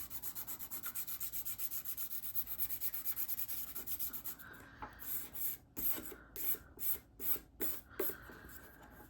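Sandpaper scrubs at the engraved sterling silver shield of a Victorinox Classic pocketknife, first in a steady rapid rubbing, then in slower separate strokes, close and fairly quiet.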